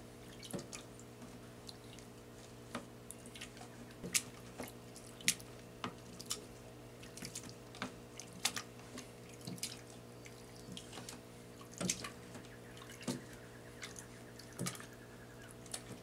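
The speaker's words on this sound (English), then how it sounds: "I will now use the swizzle stick to first crush the berries and then swizzle them into this liquid." Jamun berries crushed and swizzled in liquid with a swizzle stick for wine making, heard as faint wet squishes and scattered clicks of the stick over a steady low hum, with no talking.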